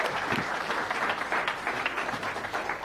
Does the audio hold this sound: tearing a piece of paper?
no